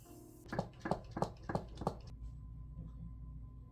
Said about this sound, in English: Now it's time to spray the face.